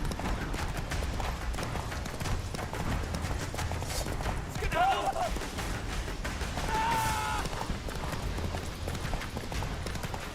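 Roach the horse galloping in The Witcher 3, a fast rhythmic clatter of hooves running through the whole stretch, mixed with game effects and brief voices.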